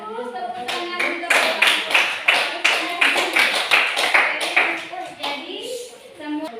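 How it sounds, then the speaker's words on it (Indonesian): Classroom applause: a group of pupils clapping together in a steady, fast burst of hand claps lasting several seconds, with children's voices mixed in and the clapping tapering off near the end. "Tepuk tangan untuk"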